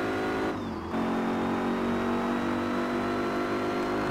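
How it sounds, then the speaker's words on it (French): A car engine in the racing game Gear.Club Unlimited 2 on Nintendo Switch drones steadily with a sustained, slowly rising tone after a brief dip, like a gear change, loud and continuous without voices. "ici il y a le bruit du moteur, il est agréable et tout."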